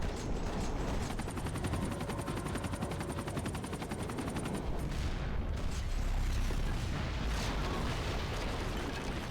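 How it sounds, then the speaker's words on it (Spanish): Continuous heavy battle noise from Max Payne 3 as a combat helicopter is brought down by gunfire: dense rattling automatic fire and rotor roar, then a broad rumbling blast, all loud and unbroken. "así de fácil es como se derriba un puto helicóptero de combate"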